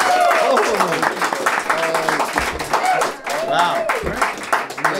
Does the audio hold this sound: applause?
yes